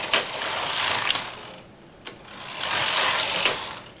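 A knitting machine carriage sweeps across three rows, each pass a rapid whirring, clattering rattle of needles, with a brief quiet gap between passes, close and moderately loud with no talk.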